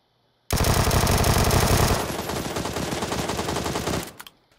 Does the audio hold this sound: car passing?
no